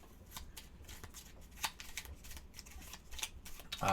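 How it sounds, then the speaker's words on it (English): Loot deck cards from the Fallout board game are given a quick shuffle up close: a steady run of crisp, papery riffles and flicks, ending in a louder burst, with no talking. "I'm going to give that a quick shuffle."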